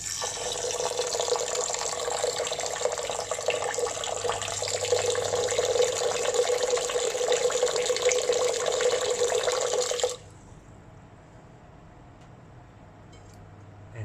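Water runs steadily into a rice cooker pot for about ten seconds, a loud continuous splashing pour that stops abruptly, leaving quiet room tone.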